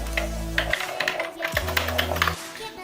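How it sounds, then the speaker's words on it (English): Fingers type on a Cosmic Byte GK-03 mechanical keyboard, a quick irregular patter of close keystroke clacks layered over a low droning hum that drops out partway through. "this is the way you keep your palms on this keyboard and type"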